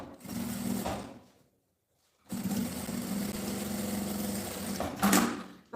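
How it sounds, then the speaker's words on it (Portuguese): A sewing machine stitches a seam in a close, steady mechanical whir, running for about a second, stopping in a brief silence, then running again for about three seconds with a small clunk near the end. "Uma costura aqui, ó, um pé de máquina."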